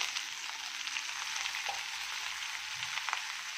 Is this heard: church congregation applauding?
no